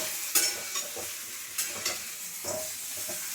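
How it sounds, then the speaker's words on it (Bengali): Eggplant pieces fry lightly in oil in a pan, a soft sizzle broken by several short scraping stirs spaced irregularly, fairly quiet and close. "বেগুনগুলো একটু হালকা করে ভেজে নেব"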